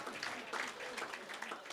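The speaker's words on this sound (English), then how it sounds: "Another round of applause for all the women there that polled." An audience at a football league awards night applauds with a soft, steady wash of many hands clapping, heard faint and distant, without any standout voices.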